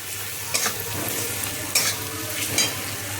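Spice paste with chopped tomato is stir-fried in a pan for a mushroom and potato dish, a continuous close sizzle broken by three distinct scraping stirs of a spatula, with no voices.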